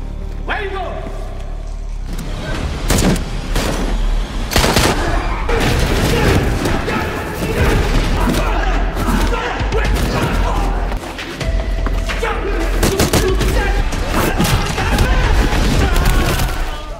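Gunfire and heavy impacts ring out during an attack by guards in a parking lot in a Thai mafia action film, with loud booms, thuds and bursts of shots crowding a dense, continuous soundtrack while a voice talks over it throughout.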